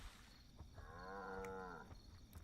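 A cow in the video game Black and White 2 lets out a single drawn-out, tonal moo lasting about a second, set against a soft background of game ambience.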